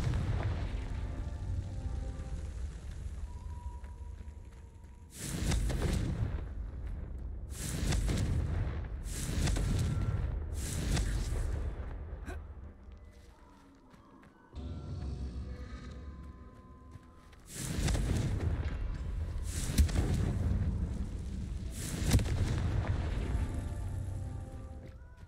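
Confringo fire spell blasts in Hogwarts Legacy gameplay, a string of deep booming explosions and crackling bursts in clusters, with dull rumbling lulls between them across about twenty-five seconds.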